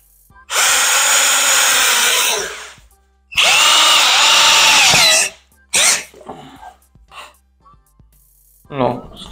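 A power drill driving screws during a home renovation of a toilet room whirs loudly in two long bursts, then a few shorter spurts, with brief talk and breaths between them.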